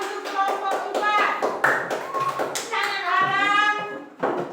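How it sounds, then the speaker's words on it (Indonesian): Classroom applause for a student group in a primary school lesson, a burst of scattered hand claps mixed with children's voices and chatter, close and lively before fading out near the end. "Tepuk tangan untuk kelompok 4."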